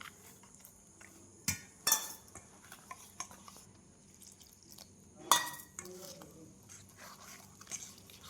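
A spoon stirs cake batter in a bowl as cold milk is added a little at a time, for a palm cake. The stirring is soft and fairly quiet, with a few sharper clinks of utensil against the bowl.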